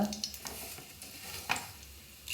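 Bay leaf, cinnamon, cardamom and cloves hit hot oil in a pan, giving a short burst of sizzling with sharp clicks and scraping stirs close by.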